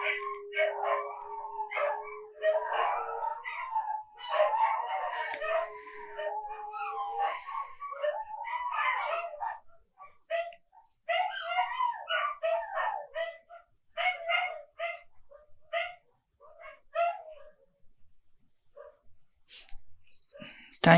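Indoors, a group of dogs barks and howls loudly and close: early drawn-out howls give way to bursts of repeated barks and yips that fade toward the end, with speech weaving in and out.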